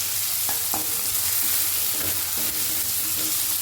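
Garlic and grated ginger fry in a pan for egg tarka, a steady close sizzle with a few brief scraping stirs, no voices.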